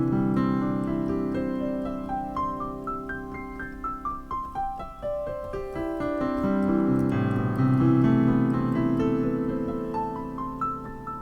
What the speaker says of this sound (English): I do the Final Fantasy piano roll thing.